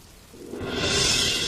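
Rain at night swells from a quiet background into a loud, dense hiss of falling water that holds steady to the end, with no voices.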